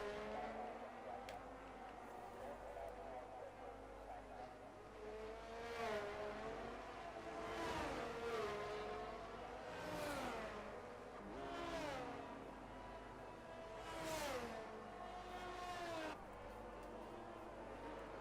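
A sim race car in a British GP league replay heading into the final corner, engine note rising and falling in repeated revving sweeps through gear changes, steady and moderately close.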